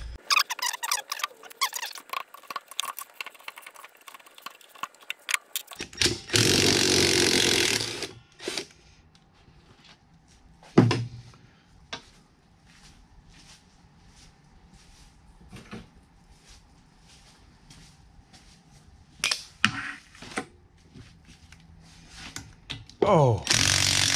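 A power tool zips the differential pan bolts off a Mustang 8.8 axle in a shop, with loud rattling bursts repeating between clanks, squeaks and quieter gaps, as people talk.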